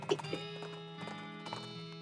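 Horse hooves clip-clop at a steady trot in the western role-playing video game West of Loathing, near and fairly soft, with a few louder hoof strikes at the start over a faint humming background.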